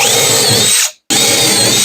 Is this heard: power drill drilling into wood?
yes